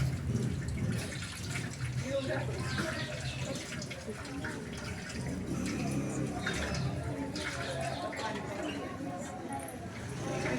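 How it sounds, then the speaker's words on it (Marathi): Water splashing and running as hands are rinsed, a steady wet sloshing with a voice talking over it throughout. "परत पाण्यात हात सगळा स्वच्छ धुवायचा"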